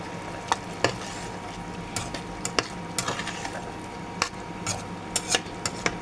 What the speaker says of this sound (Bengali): যতক্ষণ এভাবে কষাতে থাকবো, রসুন পেঁয়াজগুলো ভালোভাবে গলে যাবে